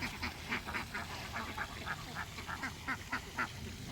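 Ducks on a garden farm in Ayutthaya quack repeatedly in quick, uneven bursts, somewhat distant, over a steady outdoor background hiss.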